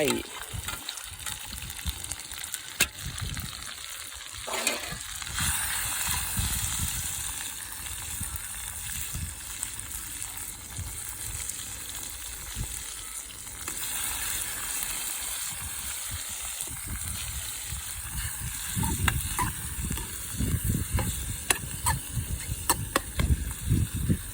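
Liver frying with garlic in a pan: a steady, loud sizzle throughout, with occasional scrapes and stirring clinks, and someone talking at times over the crackle.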